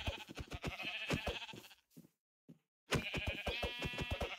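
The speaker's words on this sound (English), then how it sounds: "We got sheep over here." Sheep bleating in Wannabecraft, a blocky sandbox survival game: a run of clear, close bleats, a brief quiet pause, then more bleats, with no talking.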